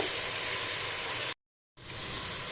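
Ground turmeric and chilli frying in oil for khichuri, a steady hissing sizzle that cuts out briefly midway and then resumes, close and even in loudness.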